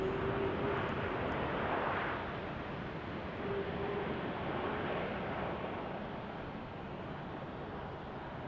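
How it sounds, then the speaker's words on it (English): Airliner landing at Salt Lake City Airport, heard from a distance as a steady, broad engine roar and rumble that fades slightly over several seconds, with no talking. "That was silky smooth landing right there"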